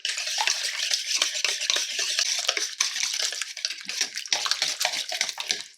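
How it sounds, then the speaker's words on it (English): Whisk beating spinach and ricotta quiche filling in a bowl, a steady brisk scraping and clicking that runs the whole time, close up with no voices. "Just whisk it."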